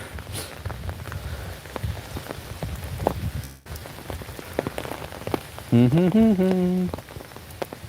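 Steady rain pattering on a surface outdoors where a dog is getting soaked, a continuous wash under sparse talk, with a brief tonal voice-like sound near the end.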